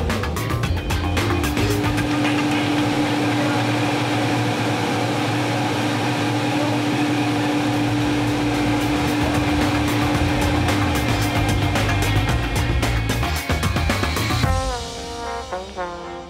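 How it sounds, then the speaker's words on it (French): Honda CBR motorcycle with modified exhaust and intake running hard on a rolling dynamometer, a loud sustained high-revving engine roar that climbs steadily, then cuts off into a brief deceleration at the end, with no talk. "Cette machine mesure la force avec laquelle notre moto fait tourner un rouleau situé sous la roue arrière"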